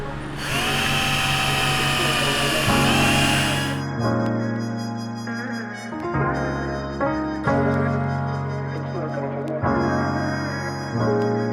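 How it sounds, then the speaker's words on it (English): A power drill whirs in several bursts, starting and stopping, with rising and falling motor pitch close by, during a camper van build. "Then you're going to take your drill, and you'll be able to drill"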